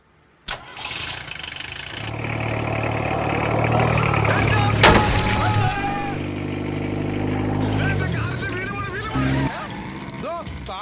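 A car engine cranks and catches, then revs and runs as the vehicle pulls away, loud and close, with a sharp knock partway through, squeaky tones near the end and voices talking over it.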